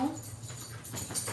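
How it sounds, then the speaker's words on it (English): Several dogs whimper and let out small yips at close range over a steady hiss of room noise, in a short, restless burst. "pardon my dogs, they're going kind of crazy"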